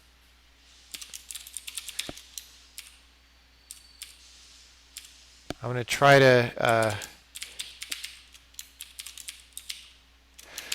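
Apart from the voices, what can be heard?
typing on a computer keyboard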